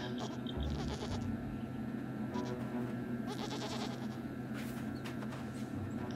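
A goat in the video game Blanc gives a few quavering bleats amid a continuous ambient bed of game sound. The calls are moderately loud and spaced out, and no one speaks.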